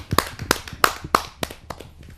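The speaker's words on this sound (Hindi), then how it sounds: "आइए आमंत्रित करते हैं उनका जोरदार तालियों से।" A few people at a Hindi poetry gathering in Noida clap for a poet, sparse and uneven sharp claps close by, tapering off after about two seconds.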